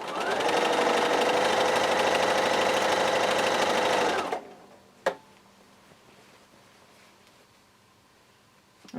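A sewing machine stitches jelly roll quilt strips in one steady, loud, close run for about four seconds, then stops. A sharp click and quiet handling noise follow.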